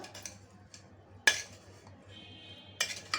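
A spoon mixing long beans palya with salt, jaggery, grated coconut, turmeric and palya spice powder in a metal vessel; sharp clinks and scrapes come at irregular intervals over a quiet background.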